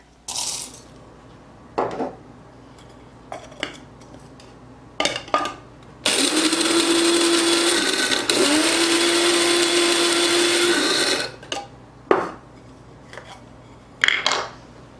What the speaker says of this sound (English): So now what I'm going to do is put that into my grinder.